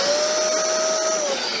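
Einhell Classic TC VC1930S wet and dry vacuum cleaner, 30 litre and 1500 watt, running with a steady loud motor whine and airflow hiss throughout, no talking.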